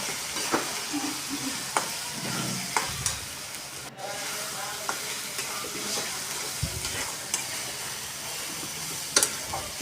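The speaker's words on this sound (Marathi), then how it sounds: "आता आपण पुन्हा त्याला एकत्र कालून घेऊया" Chili thecha stirred and fried in a pan, salt mixed through, with a steady close sizzle and scraping, clinking stirs throughout, no talking.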